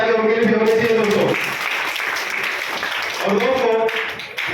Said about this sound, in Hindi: जोरदार तालियां उनके लिए भी होनी चाहिए दोस्तों।